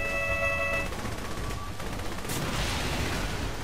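Gunfire in the video game Saints Row: The Third, a burst of sharp shots and crackling impacts over a loud, dense game soundscape, with no talking.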